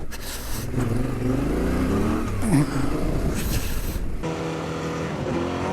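A Honda XR650L rally motorcycle rides off road, its engine droning steadily and loudly up close with shifting revs and a brief rough surge midway, over rumbling, scraping terrain.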